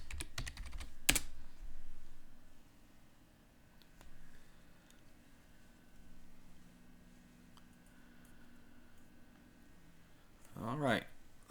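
A password being entered on a computer keyboard during a Linux Mint installation, heard as a quick burst of soft key clicks at the start and again near the end, fairly faint against a quiet room.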